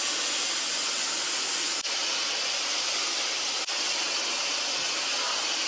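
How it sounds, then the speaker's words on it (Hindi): Steam hisses in an Arab hammam as a loud, steady broadband rush, with two brief momentary dips in the flow. "इसके नीचे से भी स्टीम निकल रही है"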